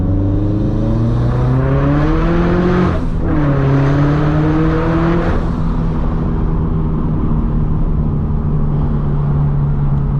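Turbocharged Subaru BRZ accelerating on the road from the driver's seat, its engine note climbing through the gears with a brief dip at a shift, then holding a loud, steady drone, with no talking.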